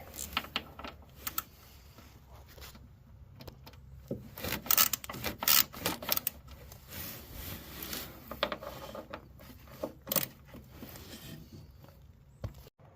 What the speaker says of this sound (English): we're gonna start by removing these 10mm bolts here